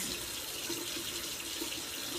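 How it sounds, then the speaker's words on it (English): Hot water runs steadily from a tap into a sink, a constant soft hiss and splash at moderate distance with no other sounds. "I'll run some hot water."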